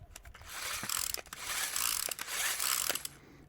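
Recoil starter on a Parkside PPKBS 56 petrol chainsaw, giving quick ratcheting clicks and whirring bursts as the pull mechanism is worked by hand, close up and fairly quiet with no talk.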